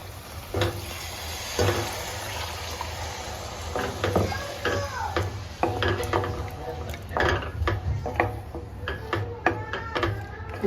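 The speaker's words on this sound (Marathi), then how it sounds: "मी असं पाणी टाकून घेतलेलं आहे ते टाकूया आपण आता" Water is poured into ground masala and stirred in a cooking pot for dum aloo gravy, giving scraping, sloshing and clinking sounds against a steady low hum.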